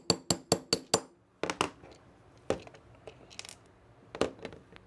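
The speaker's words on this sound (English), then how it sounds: "Take our 3/32 inch punch and we'll go ahead and tap out that firing pin retaining pin." A 3/32 inch punch is tapped with a hammer to drive out the firing pin retaining pin of a CZ 75 pistol, giving a rapid series of sharp metallic taps followed by scattered, irregular clinks.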